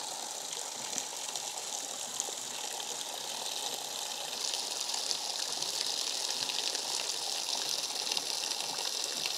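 Water gushes steadily through the overflow of a hydroelectric intake barrel fed by poly pipes on a mountain creek, a continuous broadband rush that swells slightly louder midway, with no voices.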